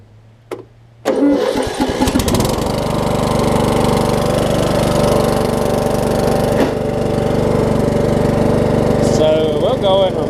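A Troy Bilt Pony riding mower with a newly installed carburetor starts with a sharp catch and then runs loud and steady nearby, its engine roar filling the rest of the clip.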